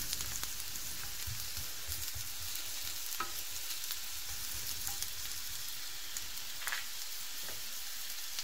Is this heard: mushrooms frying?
yes